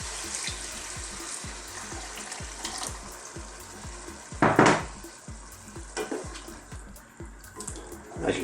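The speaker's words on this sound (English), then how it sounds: "At this stage, I'm just going to add some water." Water poured into a curry pot of beef frying over high heat, a steady sizzle and splash with a louder gush midway and stirring clatter, close by with no talk.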